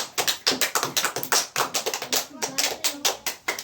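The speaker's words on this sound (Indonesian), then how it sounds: "tepuk tangan untuk kelompok 4" Group 4 gets a round of classroom applause from fifth-grade students, a brisk run of fairly close hand claps with a steady uneven rhythm and no pauses across the few seconds.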